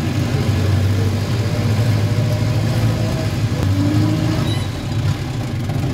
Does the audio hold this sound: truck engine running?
yes